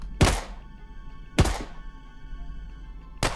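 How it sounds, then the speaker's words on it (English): Weapon reloading in the video game Murder in the Alps: three heavy, sharp thunks, loud and close, spaced roughly a second apart with a low rumble in between. "Reloading!"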